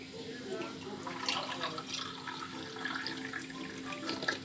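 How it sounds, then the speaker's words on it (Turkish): Milk poured into a bowl holding two packets of whipped cream powder for a cake, a soft steady liquid trickle heard up close under a faint electrical hum. "Şimdi sütümü ekleyeceğim."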